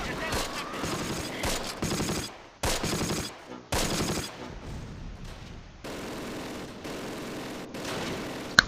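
MG42 machine gun fire in the Close Combat wargame, repeated loud rattling bursts broken by short pauses, with battlefield noise and faint voices mixed in.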